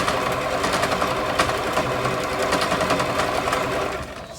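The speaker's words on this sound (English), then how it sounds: "I'm going to use the same free motion stitch to block it on the upper side and the lower side" A sewing machine running steadily in free-motion stitching mode while blocking the ends of a buttonhole, with a continuous close mechanical whir and rapid needle clatter that fades out at the end.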